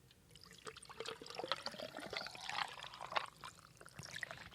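Water trickles and pours, with faint liquid splashes and dribbles, quiet and close, apparently ending in sips.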